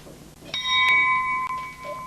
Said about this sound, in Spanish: Las campanas llaman a los fieles a la oración.